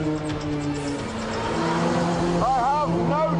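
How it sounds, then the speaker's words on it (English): Radical SR3 race car with a 1300cc Hayabusa motorcycle engine, a loud high-pitched engine drone with rising and wavering revs, heard close under a voice. "It may only have a 1300cc Hayabusa engine, but it weighs less than half a ton"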